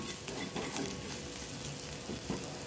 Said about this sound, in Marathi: थोडा ओवा, 4-5 मेथी दाणे, याला कसं हलवत राहायचं।